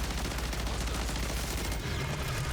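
A BP50 assault rifle fires in MW3 Zombies, a continuous stream of rapid, loud automatic shots with heavy low-end booms rolling underneath, heard close and without talk.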